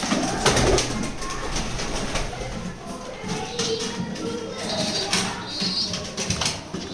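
White and grey pigeons scuffle at close range, with continuous rustling, flapping and low cooing over a busy background, and a voice talking intermittently.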